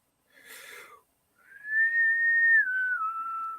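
A single person whistles a smooth, sustained tone that dips in pitch, imitating a gliding flying disc, preceded by a brief breathy puff.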